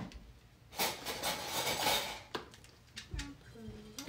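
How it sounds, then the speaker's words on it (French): A silicone spatula scrapes the inside of a bowl in a kitchen, with long rubbing strokes and a few clinks and knocks, up close, without talk. "il faut que je gratte avec une maryse"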